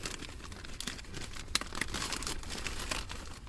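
A plastic Ziploc bag crinkles and rustles steadily as it is pulled over a Nepenthes pitcher plant, with soft crackling and one sharper crinkle partway through; close and fairly quiet, with no speech.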